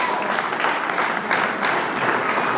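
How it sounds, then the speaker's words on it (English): A roomful of people at a Ghanaian Independence Day celebration in Utah applaud the panelists with steady, dense clapping that stays even in level from start to finish. "You can give them a round of applause"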